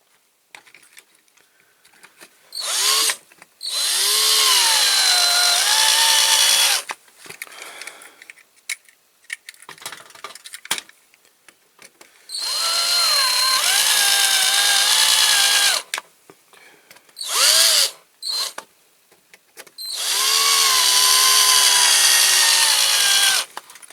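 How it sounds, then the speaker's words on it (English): A hand-held power drill with a blunt bit boring during restoration work on a Corgi Ford Thames Airborne caravan, running in three long loud bursts and a few short ones, with quiet pauses between and no talk. "Poor old drill's getting a bit blunt."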